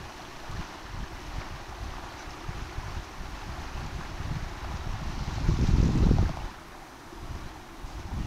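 Water gushes outdoors at an overgrown cemetery among graves, a continuous low rushing roar with heavy wind buffeting that swells louder for a moment before easing back.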